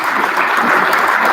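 A short, dense burst of audience applause at an orthodontics convention event, many hands clapping together steadily and fairly loud throughout.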